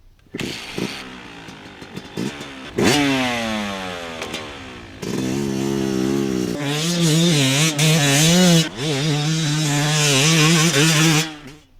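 A modern Yamaha 125 two-stroke motorcycle engine revs repeatedly up close, its sharp buzzing tone climbing and falling through the throttle blips before settling into a high, steady, bee-like drone.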